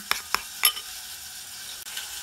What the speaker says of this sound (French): On mélange jusqu'à ce que ce soit homogène.